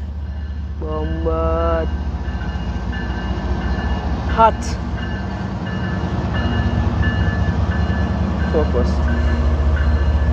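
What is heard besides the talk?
train passing by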